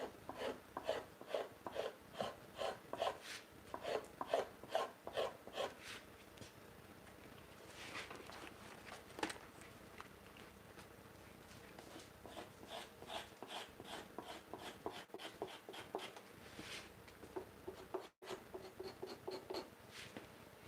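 Hides are scraped by hand in a workshop, close rhythmic rasping strokes in repeated bursts, at times quick and regular, at times slower and softer, with no talk.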